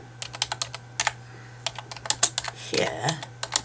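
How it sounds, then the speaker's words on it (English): Rapid clusters of keyboard key presses, close and crisp, with a steady low hum beneath and a brief louder rustle near the end. "I'm just going to type it in the text box up here."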